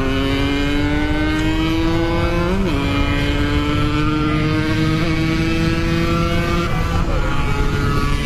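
A Yamaha RX King two-stroke motorcycle engine on a night ride through Jakarta, holding a loud, close, continuous buzzing drone with rising pitch and one quick throttle blip, and no talking.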